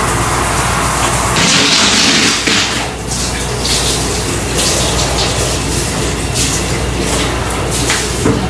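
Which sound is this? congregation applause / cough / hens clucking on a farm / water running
water running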